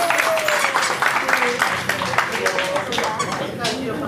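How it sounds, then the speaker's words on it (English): Audience on a furry convention cruise claps and cheers, a short burst of applause with lively voices and whoops layered over the clapping. "Give them a round of applause."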